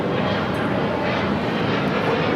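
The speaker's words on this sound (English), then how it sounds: "Another Delta 757 touching down here on the south side." A Delta Boeing 757-200 airliner touches down on the south side at Los Angeles airport, giving a loud, continuous broadband engine roar held close and steady throughout without a break.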